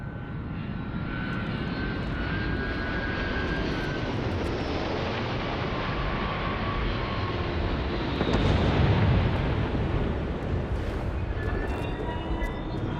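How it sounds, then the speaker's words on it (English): A spaceship's engine blast roars in the video game Starfield, a loud, continuous, broadband rushing thrust that swells slightly midway and carries faint high whines over it, with no talk for about thirteen seconds. "Watch for the engine blast, will ya?"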